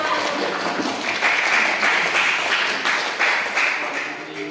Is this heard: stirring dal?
no